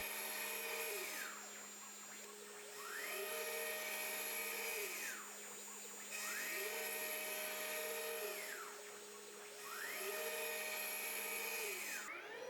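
A CNC machine flattens an end-grain cutting board blank, with a steady motor whine and a cutter that rises and falls in repeating passes about every three seconds. No voices.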